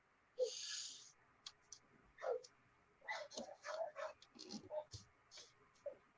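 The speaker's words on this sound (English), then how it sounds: "One of my dogs got loose, so my husband outside, and they all get jealous." Several dogs bark and yip outside, sharp overlapping barks in uneven bursts at moderate distance, with a few whimpering yelps between them.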